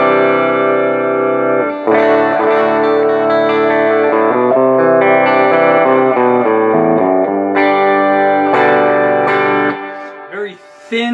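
Groove T-style electric guitar on its bridge pickup at full volume and full tone, loud strummed chords and picked notes ringing through an amp with a thin, bright, slightly distorted edge, sustaining for several seconds before fading.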